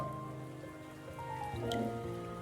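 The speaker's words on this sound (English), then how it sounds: "Rain." Steady rain patters on a surface, a soft continuous hiss with faint tonal hum underneath, fairly quiet.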